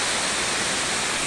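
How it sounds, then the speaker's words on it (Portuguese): A waterfall in the Chapada Diamantina hills of Brazil, a loud, steady, dense rush of falling water filling the whole clip with no breaks. "Essa cachoeira maravilhosa."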